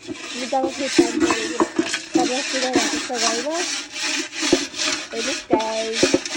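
Rhythmic rubbing and scrubbing strokes as dishes are scrubbed, with squeaky tonal scraping and occasional clatter, close and steady throughout.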